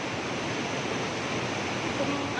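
A small stream in the countryside rushes in a steady, broadband wash of flowing water, loud and continuous from start to finish.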